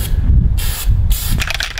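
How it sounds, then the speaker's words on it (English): Spray-on rubber coating hissing from an aerosol can onto half-inch steel plates for basement support columns, in two close bursts of loud spray with a brief pause between and a softer spatter after. "It's like spray on rubber."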